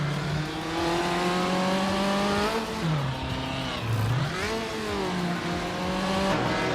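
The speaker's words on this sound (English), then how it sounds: "Netzerup Starks is driving a 1968 Honda 800 RSC." A 1968 Honda 800 RSC racing in a driving game, its engine droning steadily and then dipping and rising in pitch through gear changes and revs, loud and continuous with no talk.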